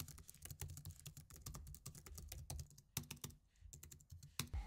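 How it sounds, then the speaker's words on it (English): Typing on a Logitech MX Keys Mini keyboard: a dense, steady run of soft, close key clicks and taps with brief pauses, and no speech. "it gives a very satisfying and consistent sound when I'm typing away"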